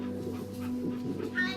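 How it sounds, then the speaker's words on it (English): A dog whimpers in the video game That Dragon, Cancer, a few soft, high whines and yips over a quiet hum, faint and close. "The doggy?"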